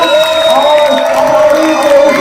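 Audience at an Urdu mushaira during a school's annual cultural program cheering and clapping loudly, a dense roar of crowd voices and whoops with applause mixed in throughout.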